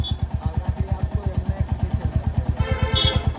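A Royal Enfield Hunter 350 motorcycle engine thumps steadily while idling or riding slowly near an expressway toll stop, a loud, close, rhythmic single-cylinder pulse that rises slightly toward the end.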